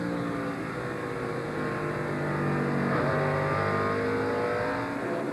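NASCAR race cars roaring around the track during the 1999 Exide NASCAR Select Batteries 400, a dense, continuous engine drone that swells slightly as the pack passes, heard from a distance without commentary.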